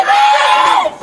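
Screams ring out amid shouting during a police arrest as officers break a car window and fire a Taser, a loud, sustained high-pitched cry lasting about a second, with a sharp burst at the end.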